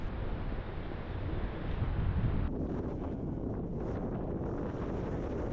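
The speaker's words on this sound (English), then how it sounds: "It didn't take long to realize the wind was going to be a constant battle." Strong wind buffets the microphone during an overnight hike in the Australian bush of the Budawangs, a loud, continuous roaring rush that swells and gusts throughout with no voices.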